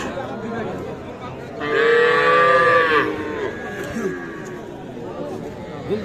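A cow lets out a long, loud moo over a busy background of people chattering at a crowded outdoor livestock market selling bulls and heifer calves.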